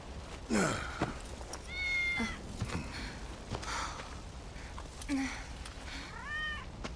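A cat in the video game Final Fantasy 7 Remake gives several short, rising-and-falling meows spread across the scene, clear and close over a quiet in-game background.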